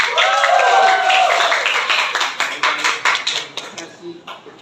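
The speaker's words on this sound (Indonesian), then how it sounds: "Kita sambut dengan aplaus untuk Bapak Max." An audience claps to welcome a speaker at a school presentation, beginning over a voice and thinning into scattered, separate claps that fade out.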